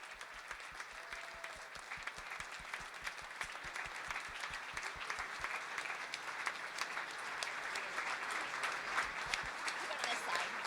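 An audience applauds to welcome chess champion Magnus Carlsen at a simultaneous chess demonstration, with a dense, sustained round of clapping that builds slightly over time while voices murmur underneath.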